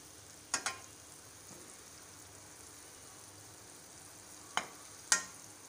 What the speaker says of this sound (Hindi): पकौड़ियों को हमें दोनों तरफ से गोल्डन कर लेना है